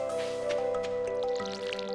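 A watering can pours in the farming game Stardew Valley, a soft splashing drip and trickle over steady background music and chimes, close and continuous for a couple of seconds.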